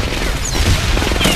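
Grenade explosions in the video game Medal of Honor Airborne: dense, loud, continuous rumbling blasts with booming low end, overlapping into a sustained barrage.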